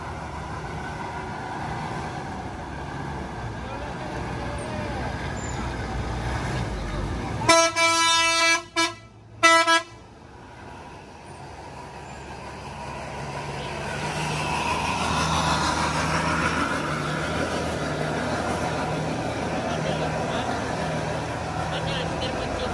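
Buses on the steep, winding Sitinjau Lauik mountain road sound loud, tonal horn blasts in two bursts while engines rumble and swell as they pass, with a voice talking over the traffic.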